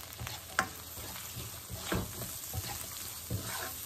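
Onions fry with turmeric powder and salt, a steady close sizzle broken by several stirring scrapes and knocks, with no one talking.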